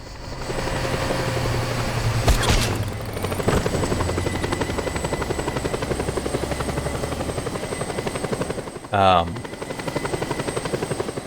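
A helicopter flies in the Just Cause 2 video game, its rotor making a steady, loud, close drone that runs the whole time, with a brief louder swell near the end.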